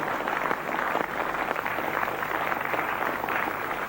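Steady clapping from a television game show studio audience, dense and continuous, with a bit of voice mixed in.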